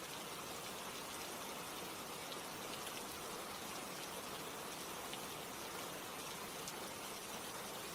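Steady rain falls without a break, a dense even hiss of drops on surfaces that stays the same level throughout, with no voices.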